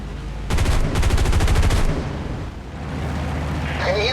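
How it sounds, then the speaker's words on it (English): The rear gunner of a torpedo bomber fires a machine gun in the War Thunder video game, two loud rapid bursts of close fire separated by a short gap, with engine drone continuing underneath. "Push the firing trigger to open fire"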